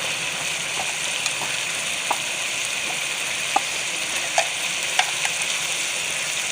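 Red chili powder fries with chicken in a pan for homemade Sindhi bhe chicken, giving a constant bright sizzling hiss close by, broken by a few sharp spatters and clicks.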